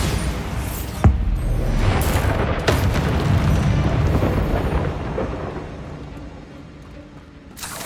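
Bombarda blasting spell exploding in Hogwarts Legacy: a sharp loud bang followed by booming, rumbling blasts that roll on and slowly fade, with no talk.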